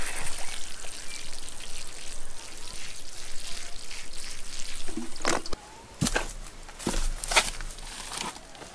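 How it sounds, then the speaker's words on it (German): Water poured onto freshly sown cucumber seeds in a small container, a steady trickle and splash running for several seconds, then a few sharper knocks and handling sounds near the end. "Eine Portion Wasser und in die Ecke gestellt."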